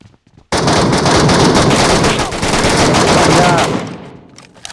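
Sustained rapid gunfire roars loudly for several seconds after a brief quiet start, then tapers off, sounding like automatic weapons in a game.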